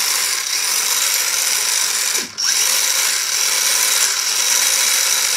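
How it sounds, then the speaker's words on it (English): An electric motor on a bike with anti-wheelie control whirs loudly and steadily, cuts out abruptly for a moment, then spins back up and runs on. "Can you hear the motor stop?"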